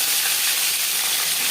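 A marinated fish head fries in four spoons of hot refined oil with a loud, dense, continuous sizzle and hiss. Nothing else is heard.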